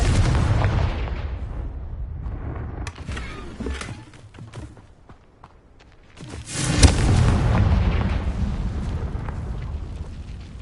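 Confringo fire spell detonations in the Hogwarts Legacy game, heavy rumbling blasts with crackling debris, a loud one opening, a lull, then another big explosion that rolls on for several seconds.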